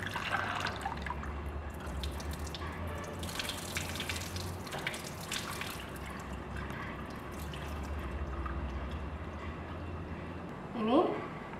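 Soaked soybeans are washed by hand in water to strip their hulls, giving steady splashing and dripping throughout, with a brief louder splash near the end.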